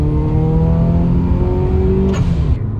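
Engine of a 1998 Subaru Impreza WRX STI GC8 with a manual gearbox, revving loud and close as a steady harmonic drone rises in pitch, then the revs drop sharply near the end.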